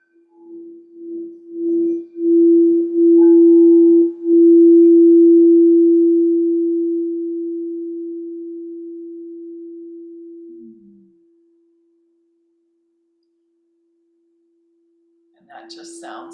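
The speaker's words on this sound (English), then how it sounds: "the bowl is singing, and there's like this reverb" A singing bowl rings with a single sustained, pure tone that swells and then slowly fades with reverb over about ten seconds, with faint rubbing textures early on and a brief bright chime near the end.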